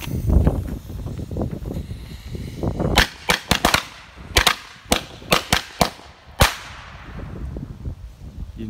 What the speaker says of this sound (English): Makes them little firecrackers sound crazy loud